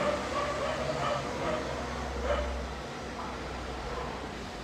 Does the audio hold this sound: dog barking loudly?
yes